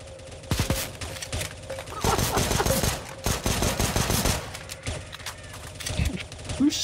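Rapid automatic weapon fire in CS:GO Zombie Escape on the ze_sunlight_p2 map, with repeated loud bursts and fusillades alongside mechanical clatter and faint voices.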